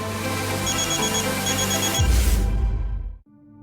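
A phone rings with an incoming call, a steady electronic ringtone repeating loudly for about three seconds before it cuts off, with no talking over it.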